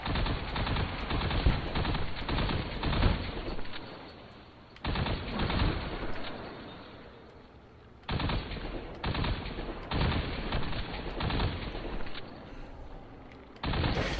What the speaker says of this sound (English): this particular gun that I'm using, this is the Crimson